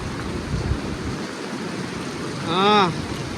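Rain falls and sea waves break at Calangute beach in Goa, making a continuous wash of surf, wind and rain noise. A brief rising tonal call stands out near the end.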